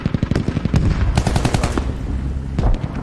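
Machine guns fire in rapid, loud bursts during a Squad video game match, close staccato rattles repeating across a few seconds with a brief lull in between.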